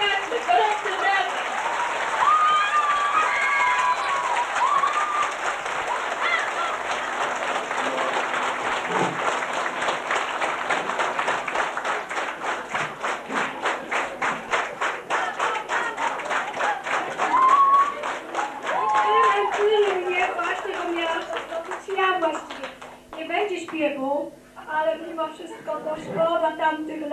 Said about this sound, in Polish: Gorący brawa!